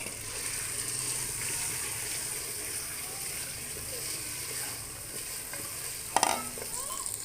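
Fried taro root (arvi) is stirred into sizzling spiced meat gravy in a hot pan. A continuous loud sizzle runs under scraping stirring, with a brief clatter of the utensil near the end.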